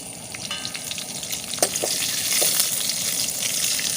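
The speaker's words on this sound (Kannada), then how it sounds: "ಇವಾಗ 4 ಒಣಮೆಣಸನ್ನು ಹಾಕಿ ಹೇಳ್ತಿದ್ದೇನೆ. ಇದನ್ನು ಕೂಡ ನಾವು ಫ್ರೈ ಮಾಡಿಕೊಳ್ಳುವ." Dried red chillies and curry leaves fry in hot oil in a pan, a dense close crackling sizzle that swells louder midway, with a couple of light clicks from stirring.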